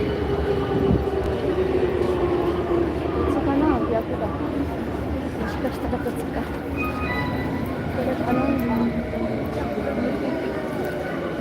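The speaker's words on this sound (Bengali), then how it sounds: "রাতে একটা ট্রেন আসছে কিন্তু এটা কোথায় যাবে" A train rumbles steadily on the rails at night, close and loud throughout, with a low continuous drone and faint higher squeals drifting over it, and muffled voices in the background.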